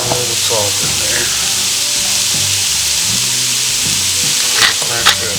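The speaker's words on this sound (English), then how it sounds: "This is the shallots and leeks. Now we're just going to saute these off." Shallots and leeks sautéing with a little salt in an Instant Pot, a loud continuous close sizzle with occasional stirring scrapes and knocks near the end.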